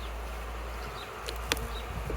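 Honey bees buzzing at the hive, a dense continuous drone of many insects close by with a few brief sharper passes.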